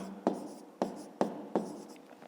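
A pen writes on paper in a few short, sharp strokes, quiet and close, with brief pauses between each mark.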